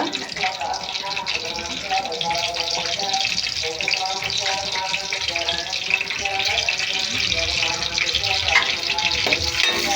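Green chillies fry in a pan while cooking dried fish, a steady broadband sizzle running the whole time, with faint stirring and background sounds mixed in.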